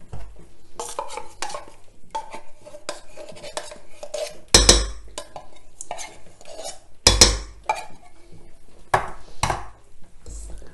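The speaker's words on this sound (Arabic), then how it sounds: "غادي نخلط بيدية مزيان" A chocolate mixture for a no-bake almond caramel cookie chocolate dessert is stirred by hand in a large bowl, heard as steady close scraping and clinking of a utensil against the bowl, with a few louder knocks.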